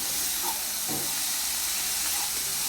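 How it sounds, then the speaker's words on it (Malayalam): Curry leaves sizzling in hot oil in a pan while being stirred, cooked alongside Avoli (pomfret) fish for pollichathu; a constant bright hiss with a few faint scraping touches. "നമ്മൾ നേരത്തെ മുറിച്ച് വെച്ച കറിവേപ്പില ആഡ് ചെയ്യാം കേട്ടോ. എന്നിട്ടൊന്ന് നല്ലപോലെ ഇളക്കാം"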